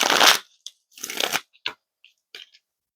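Intuit tarot cards being shuffled by hand in a quiet room, giving a loud riffling burst followed by several shorter crisp flutters and taps with silent pauses between them.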